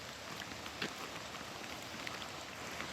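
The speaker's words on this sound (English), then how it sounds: "the rain's quite beautiful" Steady rain falls on a paved path in a valley in Japan, a dense even hiss with occasional nearer drops, close and continuous with no voices.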